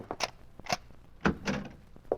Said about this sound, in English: Open the other door, Joe.